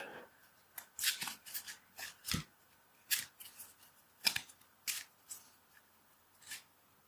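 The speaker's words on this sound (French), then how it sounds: "Et je vais tirer une carte pour cela." Playing cards are handled and drawn from a deck in a series of quiet, sharp swishes and snaps spaced irregularly, close up, with no talking.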